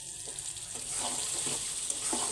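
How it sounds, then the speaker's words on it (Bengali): Potatoes, raw onion and green chili sizzle in hot oil in a home kitchen, a steady close frying hiss with soft stirring scrapes and clinks repeating throughout. "এই আলুগুলো দিয়ে দেবো আর এই যে কাঁচা পেঁয়াজ আর এই যে কাঁচা জাল এটা তেলে এই আলুর সাথেই দিয়ে কষায় নেবো একবারে"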